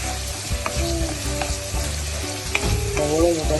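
Tomato and onion sizzle steadily in a hot pan for a Kerala-style chicken curry, with a spoon stirring through them in repeated scrapes and soft knocks, close and alone.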